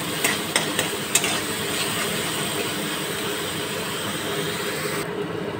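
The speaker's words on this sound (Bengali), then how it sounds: "পেঁয়াজ বাটাটা 2 মিনিট আমি ভালো করে নাড়াচাড়া করব" Onion and garlic paste stirred and fried in a pan over a lowered gas flame: a steady dense sizzle throughout, with a few sharp spoon scrapes and taps near the start.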